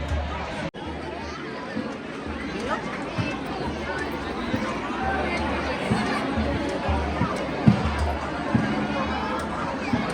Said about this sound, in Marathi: आज तुम्हाला गर्दी दाखवतो थांबा.